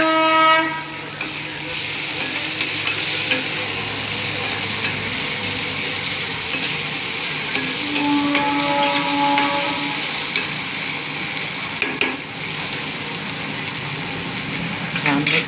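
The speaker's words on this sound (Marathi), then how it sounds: "छान मस्तपैकी भाजून घ्यायच्या कोळंब्या।" Prawns fry loudly in oily masala, a dense, continuous sizzle that runs the whole time, with sustained tonal hums and occasional brief clatters rising above it.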